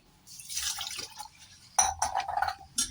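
Water splashes and drips in a bowl with short bursts of sloshing as flattened rice is rinsed by hand, close and moderately loud.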